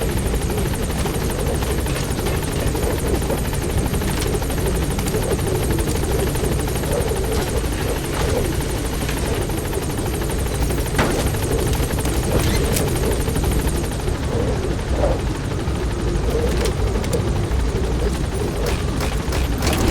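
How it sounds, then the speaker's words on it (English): A support helicopter in Metal Gear Solid V: The Phantom Pain hovers at a landing zone, its rotor roar loud, close and continuous for about twenty seconds, with a few sharp bangs. "Support helicopter has arrived."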